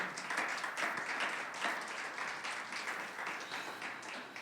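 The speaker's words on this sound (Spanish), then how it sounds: "¿Puede darle una ofrenda de palmas al Señor?" A church congregation at a Sunday service bursts into sustained applause, a dense, steady wash of clapping hands that fills the room without a break for several seconds.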